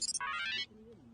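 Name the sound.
phone ringtone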